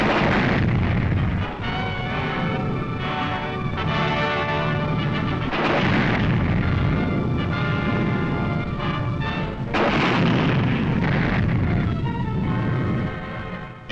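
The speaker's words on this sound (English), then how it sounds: "A tank barrage supports the move." A tank barrage in a WWII Canadian Army newsreel during the advance on Emmerich: a continuous roar of artillery fire with repeated heavy booms and rumbling blasts, loud and dense, with the old recording sounding harsh and narrow.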